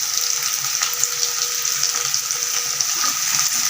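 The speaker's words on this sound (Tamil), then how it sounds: "வெங்காயம் நல்லா வதங்கட்டும்." Onions sautéing in a pan for a potato and brinjal gravy give off a steady, moderately loud hiss without pause. Faint low clinks surface now and then beneath it, and nobody speaks.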